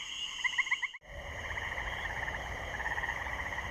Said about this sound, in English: Tree frogs begin their nocturnal, pulsating acoustic chorus.